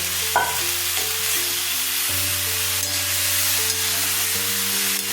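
Potato, eggplant and beans sautéing in a pan, a steady close sizzle with stirring scrapes throughout and a low sustained tonal hum underneath, no voices.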